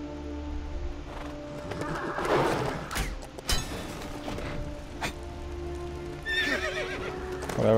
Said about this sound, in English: get back on the horse